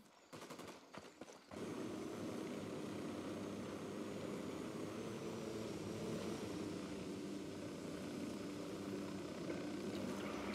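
Aircraft engine in Ghost Recon Wildlands: after a short burst of clattering and rapid shots, a loud, steady propeller-like drone takes over and holds continuously throughout.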